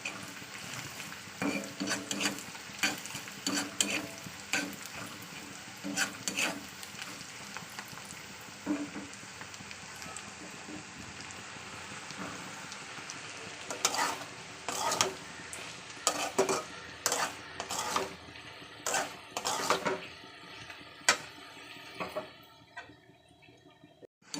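Red amaranth greens and red potatoes fry in a wok under a soft sizzle, with repeated clattering scrapes of a metal spatula against the pan in irregular bursts, close by.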